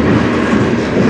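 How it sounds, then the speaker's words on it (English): A CN freight train rolls past on the Strathroy Subdivision, a loud steady rumble of wagons with continuous wheel clatter throughout, close and unbroken. "This is my first train today."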